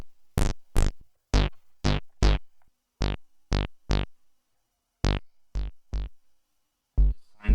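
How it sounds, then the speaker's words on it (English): A Moog Model D synthesizer plays a deep, unprogrammed bass patch as short, stabby, separate notes in irregular groups with gaps of silence between them, up close and with no voices. "let's play around and see how we can program a nice deep bass on the Model D"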